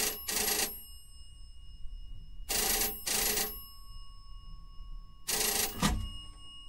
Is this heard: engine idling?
no